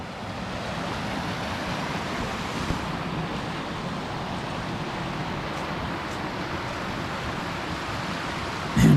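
Laurel Run Creek flows beside a mountain hiking trail in East Tennessee, with a continuous, close rushing of water and no voices.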